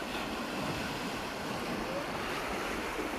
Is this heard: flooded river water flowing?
yes